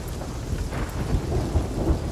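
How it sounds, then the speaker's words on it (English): Rumbling thunder from a lightning strike at sea in Sea of Thieves, a continuous low roar over steady rain with a few heavier booming swells, no talk. "It's just a lightning strike."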